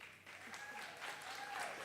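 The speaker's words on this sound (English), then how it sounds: "Give them a round of applause." Audience applause at a benefit gathering for Ukraine, faint steady clapping lasting a couple of seconds, heard at a distance.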